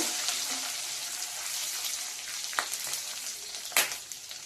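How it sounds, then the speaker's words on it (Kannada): Dry red chillies frying in a little oil for a moringa leaf chutney give a steady, close sizzle with a few sharper crackles and pops. "1-2 ಒಣ ಮೆಣಸಿನ್ಕಾಯಿ ಹಾಕೋತಾ ಇದ್ದೀನಿ. ಸ್ವಲ್ಪ ಎಣ್ಣೆಯಲ್ಲಿ ಬಾಡಿಸ್ಕೊಳ್ಳೋಣ."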